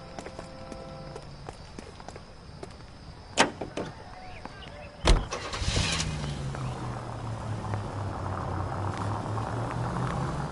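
In a video game, a Nash car's door thuds shut after scattered footsteps and clicks, then the engine starts and settles into a low, steady idle hum.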